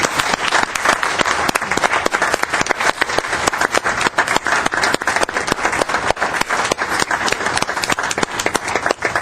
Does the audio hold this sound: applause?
yes